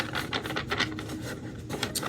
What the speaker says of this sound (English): So I've shuffled this deck. I'll shuffle it a few more times.